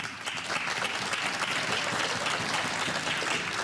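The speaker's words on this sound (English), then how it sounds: "Encouraging applause." A snooker crowd at the 2017 final breaks into steady, encouraging applause, a dense sustained patter of many hands clapping throughout, with no voices over it.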